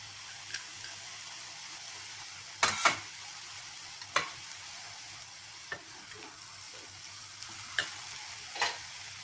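Water spinach stir-fried in a pan with dry-roasted crushed peanuts, heard as a faint low sizzle broken by sparse, sharp spatula taps and scrapes, with no talking.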